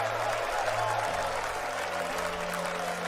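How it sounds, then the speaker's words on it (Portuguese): A church congregation at a men's faith gathering claps hands in worship, a continuous wash of clapping mixed with crowd voices and sustained instrumental tones underneath. "Batendo palmas, olha para o céu e comece a glorificar o nome do rei."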